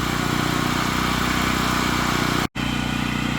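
A gas generator converted to run on propane drones steadily at close range, a constant even engine hum that cuts out for an instant near the end before resuming.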